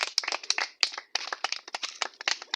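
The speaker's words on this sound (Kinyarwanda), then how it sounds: "ni mwiha amashyi" Residents at a community meeting clap in quick, irregular bursts. Close, sharp handclaps from a small group come in two runs with a short gap between them, and there is no talk.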